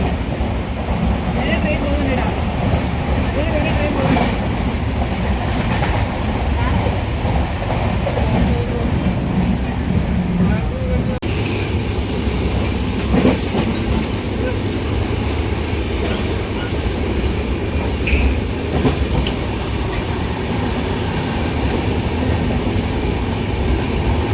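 A passenger train running on rails toward Tripunithura railway station, a loud, steady rumble with rhythmic clickety-clack of wheels that continues throughout.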